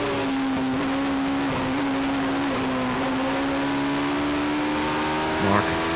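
Race cars in a Northern Ireland Sevens Challenge race at Kirkistown circuit drone steadily past at a distance, with sustained engine tone throughout and a commentator talking over it.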